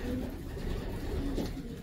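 Racing pigeons coo softly and continuously in a loft during breeding season, while adult birds rear large youngsters in the nest, forming a low, murmuring bed of sound throughout.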